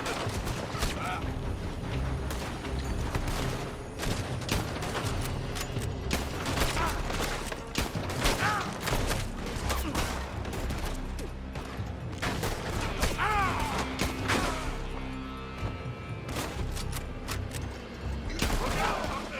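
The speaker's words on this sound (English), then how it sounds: "They're shooting from that building!" Scattered gunfire from a shootout in Red Dead Redemption, rapid cracking shots and volleys at moderate distance over a steady background, with voices speaking amid the fire.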